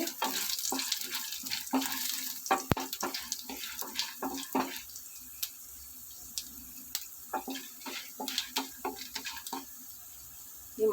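Chana dal frying in a pan for a bitter gourd fry, with crackling sizzle bursts and scattered pops over a quieter background, close and intermittent with no talk.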